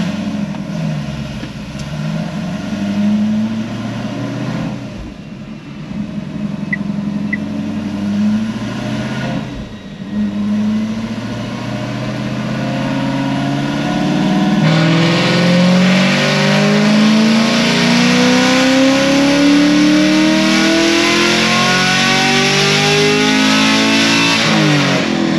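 A 6th gen Camaro SS with heads and cam, naturally aspirated, roars on a dyno during a final pull, the loud engine note climbing steadily through the gears with rising pitch sweeps, close and unbroken by talk.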